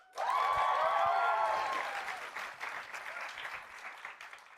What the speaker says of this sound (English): everyone, please give a huge, huge round of applause for my dear friend, Hugh Sachs